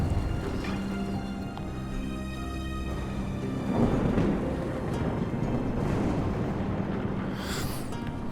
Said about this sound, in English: A lightning strike.